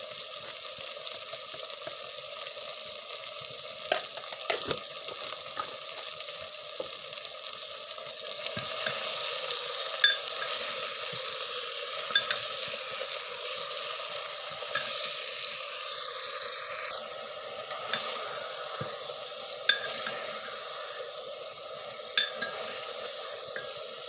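Chicken sizzles and fries steadily in a pan, a dense continuous hiss with occasional stirring scrapes and clinks, with no talk over it.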